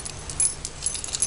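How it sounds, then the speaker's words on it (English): Bunch of house, car and gate keys on a keyring jangling in short metallic bursts, close and fairly quiet, with no talk over them. "so he's got to walk around with this keyring"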